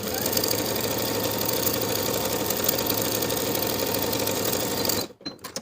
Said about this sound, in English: I'm going to sew the long raw edge with a 1/4 inch seam allowance from one side to the other.